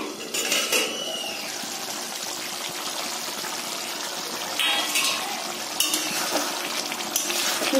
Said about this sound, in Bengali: আমি এবার ঢাকনাটা উঠিয়ে নিচ্ছি।